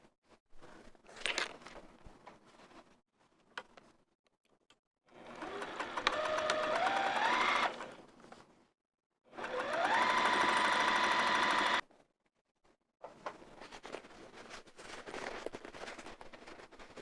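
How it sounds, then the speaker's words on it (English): A sewing machine closes the opening of a vinyl zipper wristlet in two loud, steady whirring runs of a few seconds each, separated by silence and quiet handling clicks, with no talking. "And I'll sew that opening closed."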